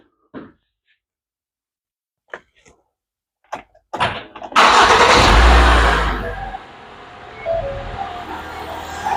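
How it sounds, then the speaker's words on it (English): A 2010 Ford Focus engine cranks and starts just after a fresh oil change, a loud burst of starter and ignition followed by a steady idle, preceded by a few faint clicks and knocks. "So let's start it up and see what happens."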